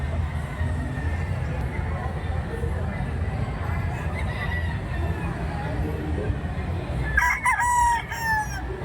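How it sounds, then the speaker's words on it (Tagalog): Roosters at a poultry expo crow loudly near the end, with a few clucks, over a constant busy hubbub of crowd chatter and nearby voices. "Ito yung mga manok nila rito sa expo."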